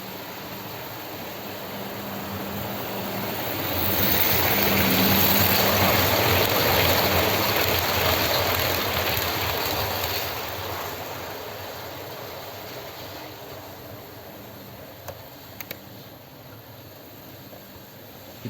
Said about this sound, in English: We're here with 1980s high-speed train.